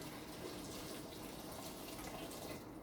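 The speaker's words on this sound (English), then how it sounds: "So I'm gonna use the hot water from the kettle as well." Hot water from a kettle pours in a continuous, even splashing rush for a few seconds, fairly close, with no talk over it.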